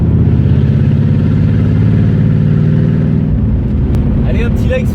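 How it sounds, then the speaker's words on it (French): Pontiac Firebird engine droning loudly while driving, a deep steady rumble from inside the car that thins out near the end as other noises cut in. "on a vraiment l'impression d'être dans une voiture de course quand on conduit cette Pontiac, avec cette sonorité"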